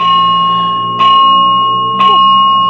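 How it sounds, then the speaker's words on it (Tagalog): An apartment fire alarm sounds as a loud, continuous electronic tone, with brief pulsing bursts about once per second layered over a steady hum. "may fire alarm na naman"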